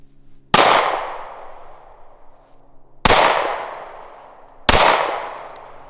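Three sharp shots from a Sig P365XL pistol with an Icarus Precision grip module, Streamlight TLR7A light and Holosun 507K X2 sight, fired at 10 yards outdoors. Each loud crack rings out and decays, spaced a few seconds apart.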